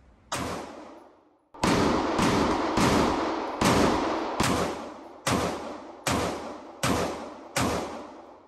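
Handgun gunshots, about nine sharp loud reports, the first alone and then a steady series of evenly spaced shots, each with a short echoing decay.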